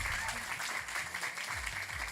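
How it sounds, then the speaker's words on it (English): An audience at an indie game awards show claps in a sustained round of applause, a dense crackle of many hands that stays level and even from start to finish. "Massive round of applause,"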